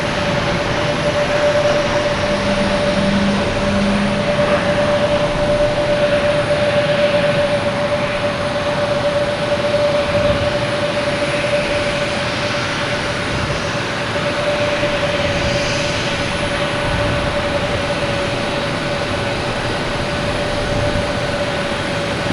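An American Airlines jet airliner takes off at Boston Logan, a sustained, loud engine roar with a steady whining tone running through it, continuing unbroken for over twenty seconds.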